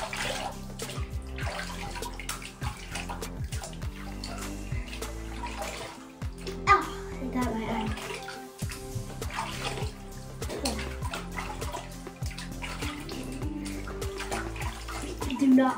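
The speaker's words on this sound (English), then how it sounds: "now I'm gonna rinse it." Running water from a tap rinses off a skincare product, a steady splashing stream with shifting spatter over background hum throughout, and no speech heard.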